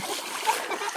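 Water splashing in a village stream as children play, brief uneven splashes close by with chatter and a voice mixed in.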